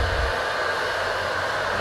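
Steady, continuous blowing hum of a heat gun running with a diffuser nozzle during paintless dent removal on a car, constant in level throughout.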